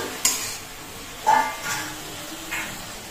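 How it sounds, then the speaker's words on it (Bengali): Diced tomato stirred in hot oil with cumin seeds and bay leaf: three scraping stirs against the pan, each with a brief burst of sizzle, over a low, steady frying hiss. "এবার টমেটোটাকে তেলের মধ্যে ছেড়ে দিয়েছি, একটুখানি জিরে ফোড়ন আর তেজপাতা দিয়ে টমেটোটাকে ভালো করে কষে নেবো।"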